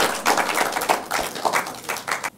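Scattered audience clapping for competing university teams at a law quiz contest, a few sparse bursts of hand claps with uneven rhythm, moderately near and without voices.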